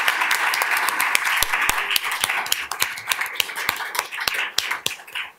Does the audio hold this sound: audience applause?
yes